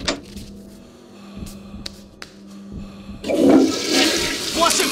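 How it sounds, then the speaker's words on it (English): A toilet flushes in the video game The Suffering: a few low clunks and thuds, then a loud rushing gurgle of water that swells and carries on to the end, with no speech. "I can't believe I flushed the toilet with my foot."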